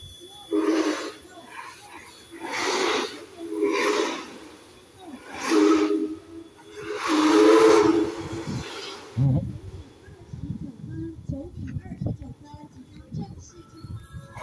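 The DT668 steam locomotive on the western line from Changhua station releases strong rushes of steam hiss in repeated pulses, loud and close, before fading into quieter station ambience.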